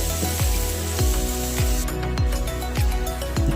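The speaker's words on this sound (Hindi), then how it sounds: "अब थोड़ी देर से ये प्याज को भी थोड़ा जल लेने दिए तेल में।" Onions frying in oil for a village-style desi chicken curry: a steady sizzle runs throughout, with regular low knocks of stirring or handling roughly every half second.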